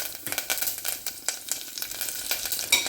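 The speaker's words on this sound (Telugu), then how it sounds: "ఇది కొంచెం చిటపట్లు ఆడనివ్వాలండి" Mustard seeds, dried red chillies and curry leaves spluttering in hot oil in a small pot, a steady close sizzle broken by sharp crackling pops, with no voices over it.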